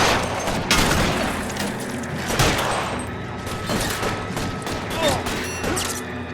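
Gunfire in a shootout in the video game L.A. Noire, a rapid run of sharp, loud shots and impacts with dense echoing bursts and some voices mixed in.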